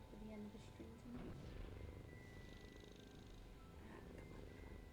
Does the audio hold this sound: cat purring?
yes